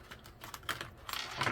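Tarot cards being shuffled by hand during a reading, a quiet run of soft riffling flicks and taps with crisp bursts near the end, close up and faint, no voices.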